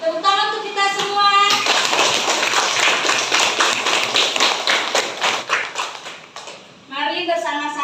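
Class 6B of schoolchildren claps together in a dense, fast, loud burst of many small hands lasting several seconds, with voices before and after.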